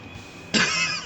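A woman's cough in the arcade game Armored Warriors, a single short burst that cuts in halfway through over a low game backdrop and holds loud to the end.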